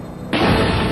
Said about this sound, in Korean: 열 전등이 좋은 호일이 부탄 캔에 열을 전달, 캔의 압력이 높아져 폭발한 것입니다.